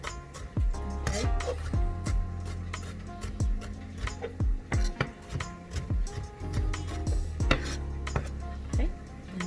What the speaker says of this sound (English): I just add them to the pan